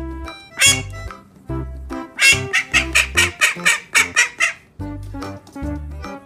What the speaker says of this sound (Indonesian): Wah, ada seekor bebek.